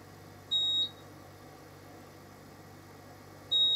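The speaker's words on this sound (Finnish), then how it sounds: "Mitähän se piippaa nyt siihen?" An electronic device gives two short high-pitched beeps about three seconds apart, each lasting under half a second, clear over a quiet low hum with no talking.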